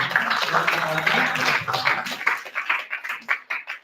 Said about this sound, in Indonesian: Oke, boleh tepuk tangan.